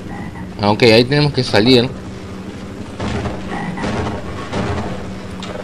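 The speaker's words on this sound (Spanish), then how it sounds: "escucho esa rana de mierda y me está incomodando" A frog croaks repeatedly in the video game Half-Life: Azure Sheep, a loud burst of warbling croaks early on, followed by fainter game ambience while someone speaks Spanish.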